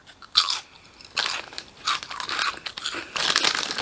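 Someone eats puffy, Quavers-like snack crisps, giving several sharp crunching bites followed by softer chewing, close to the mic and with no talk.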